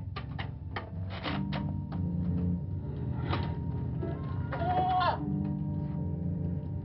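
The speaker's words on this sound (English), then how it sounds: "Yes, Papers. It's a goat." A goat bleats in a black-and-white-era horror film scene, a short wavering cry near the end among scattered knocks and shuffling, with people talking around it.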